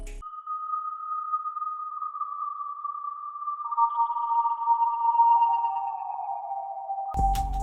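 A smooth, clean synth lead with reverb holds a long sustained note, then steps down through a few gliding pitches, ending with a sudden burst of noise.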